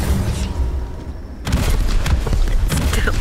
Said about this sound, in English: It's still exploding. It's still exploding.